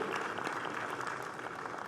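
A dense round of applause fills a hall at a Brazilian political gathering, steady and loud throughout with no break.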